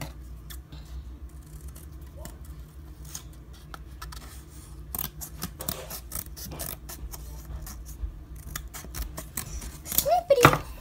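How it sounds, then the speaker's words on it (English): Scissors snip through cardboard pieces for a homemade pinhole viewing box, a run of quick, crisp cuts growing louder toward the end, with faint talk in the background. "let me cut that one out too"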